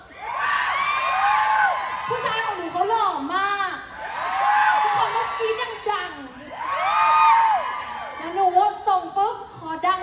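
A crowd screams and cheers for a performer at a fan meet in a shopping mall, in long, high-pitched waves, loud and sustained, swelling and fading several times with shrill shouts rising above the din.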